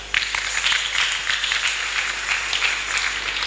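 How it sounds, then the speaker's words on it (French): A congregation applauds during a Sunday church service: a steady wash of many hands clapping together, sustained evenly throughout at a moderate, roomy level. "On acclame."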